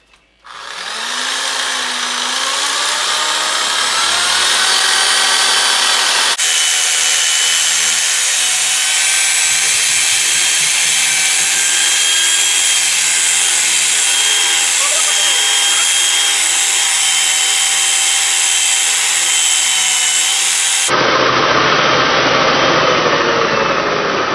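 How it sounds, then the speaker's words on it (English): A reciprocating saw with a clean blade runs continuously through bone in a kitchen, a loud, steady mechanical buzz with shifts in load, cutting off sharply near the end. "get out your reciprocating saw, put in a nice clean blade, wash it off"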